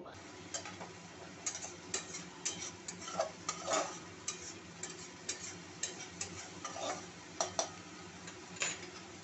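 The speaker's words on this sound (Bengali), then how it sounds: "এই পর্যায়ে আমি আরও 1/4 কাপ মতো জল দিয়ে আবারও মশলাটাকে আমি কষে নেব।" Spice masala with a quarter cup of water is stirred and fried in a pan for gondhoraj bata. A soft simmering sizzle sits under repeated light ticks and scrapes of a spoon, faint and close.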